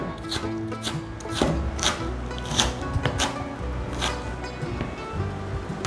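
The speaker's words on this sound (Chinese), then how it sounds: "把芹菜切碎。" Celery being chopped on a cutting board, crisp knife strikes landing in irregular bursts, close and clear against a quiet background.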